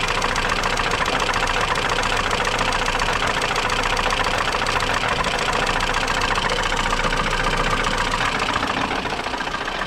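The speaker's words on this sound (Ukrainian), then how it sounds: "Ну, мотор стукає, стукає розпредвал, скоріш за все." A GAZ-21 Volga engine, converted to gas, idles steadily with a continuous rhythmic knocking, likely from the camshaft, close and fairly loud, no voices present.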